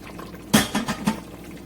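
Boiling water poured in a small splash into a pot of Ethiopian chicken stew (doro wat), a brief burst of liquid followed by a couple of softer gurgles and sizzles, close up.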